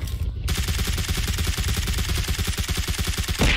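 Rapid automatic gunfire in PUBG Mobile rattles in a fast, even stream of shots for several seconds, loud and close, with a brief pause before it starts.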